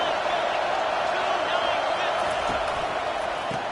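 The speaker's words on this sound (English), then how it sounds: "This crowd rising up, sensing that its defense needs some help." Football stadium crowd in an NCAA college football video game rising up, a constant, loud, broadband roar of distant massed voices that holds steady the whole time.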